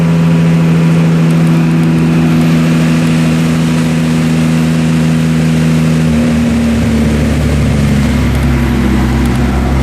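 A 2JZ-swapped MKIII Toyota Supra roars loudly on a dyno, its engine holding a steady droning tone and then climbing in pitch toward the end, close and alone.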